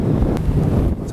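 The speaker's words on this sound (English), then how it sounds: "Hope you hear something. A lot of wind over here." Strong wind buffeting a sailboat under sail on the open Atlantic, loud continuous low roaring gusts and microphone rumble with faint rushing water beneath.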